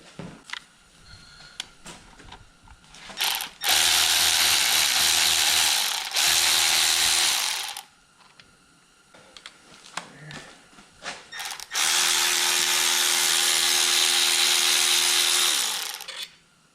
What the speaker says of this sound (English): You want the electric ratchet?